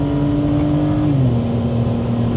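A BMW 325i E92 accelerates hard with a loud, steady engine drone heard close up. The pitch dips slightly partway through as the engine keeps pulling.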